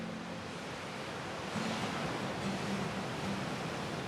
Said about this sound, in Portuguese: o som das ondas revoltas